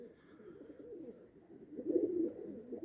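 Pigeons coo softly nearby in a loft, low murmuring calls that swell slightly louder toward the end, with no voices.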